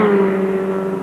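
Formula Ford racing cars at the 1987 Formula Ford Festival heats, running along the Brands Hatch top straight, their engines a loud, steady droning roar without a break.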